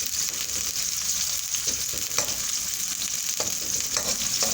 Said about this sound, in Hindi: प्याज को कम से कम 3 से 4 मिनट हम इसे फ्राई करेंगे